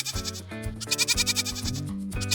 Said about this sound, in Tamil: இது செம்மறி ஆடு.